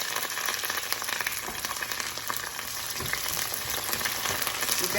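Garlic and curry leaves fry in a hot pan for dhal curry, giving a steady, dense sizzle with fine crackling spatters throughout, close and fairly loud, with no voices.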